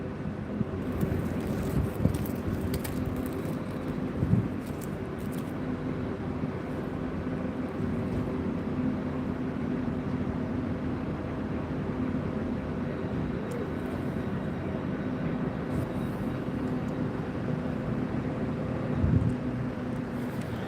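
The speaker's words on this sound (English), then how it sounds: "I hear another train arriving." A low, steady rumble of a Great Western Railway train arriving at a station in Gloucester fills the air for a long stretch, with wind buffeting and a few faint clanks, distant and constant.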